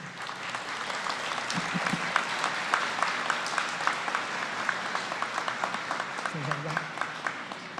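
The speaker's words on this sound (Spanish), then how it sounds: "Pido un aplauso para todo el personal del TC." A ceremony audience at the opening of the judicial year of Peru's Constitutional Tribunal applauds the court staff with steady, sustained clapping that fills the whole stretch at moderate volume.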